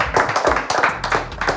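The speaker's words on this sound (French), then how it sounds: "on peut applaudir le crew numéro 1" Audience clapping for the first crew at a French rap battle show, a short burst of close, crisp hand claps in quick irregular rhythm, loud and without talk.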